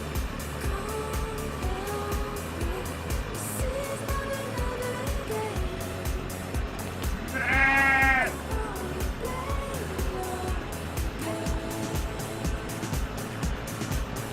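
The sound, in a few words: sheep bleating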